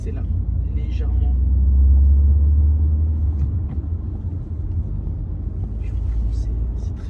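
A Mercedes A180 with 122 hp accelerates gently on the road, with a steady low engine rumble that swells slightly and then holds even, heard from inside the cabin, with no voices.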